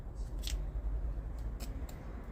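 Scissors snip a few times in quick, separate strokes, each a short crisp click close by and fairly quiet, over a steady low room hum.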